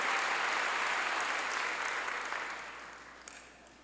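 A church congregation claps in a sustained wash of applause during a pastor's sermon, dense and fairly loud at first, then gradually thinning and fading out.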